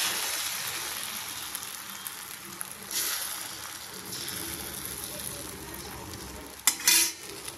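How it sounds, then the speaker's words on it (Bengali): Egg frying in a pan in a Bengali village kitchen, a steady close sizzle that runs throughout, with stirring and a sharp clatter of utensils near the end. "এই হচ্ছে ডিম ভাজা।"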